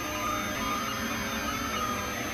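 A 3D printer near the end of printing a part gives off a steady, even mechanical whir and hum, fairly quiet and constant with no talking.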